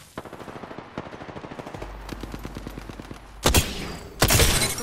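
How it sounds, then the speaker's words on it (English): Rapid automatic gunfire in the battle royale shooter Apex Legends, a steady rattling burst that builds to two louder heavy shots near the end, with no talking. "They're shooting at me."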